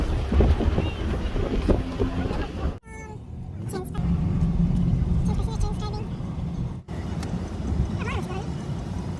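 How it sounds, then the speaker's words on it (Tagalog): Wind gusts buffet the microphone at Seven Mile Beach in Gerroa, New South Wales, a rough low rumble with abrupt dropouts, while people talk over it close by. "Oh, it is so windy."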